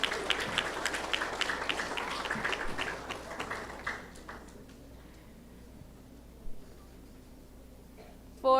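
Applause from an audience at a 4th grade school awards ceremony, moderately loud at first and then thinning out to scattered claps before fading, with a brief burst near the end.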